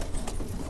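Ten-year-old female pigeon cooing close by, a short low throaty coo alone in under a second.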